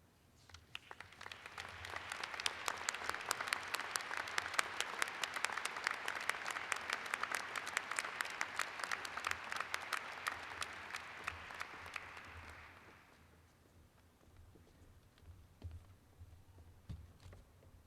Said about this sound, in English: honoring them with your applause